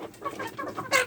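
Chickens cluck softly at close range in a short, quiet burst of several low, throaty calls.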